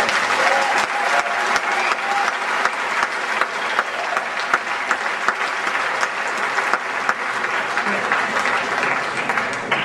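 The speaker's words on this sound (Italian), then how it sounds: "un applauso" Sustained applause from a live audience at a set at the outdoor Dusk Day music event, steady clapping with scattered louder claps throughout.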